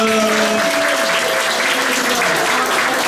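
Congregation applauding at a church Sunday worship service: steady, dense clapping throughout, with faint sustained musical tones underneath and no speech.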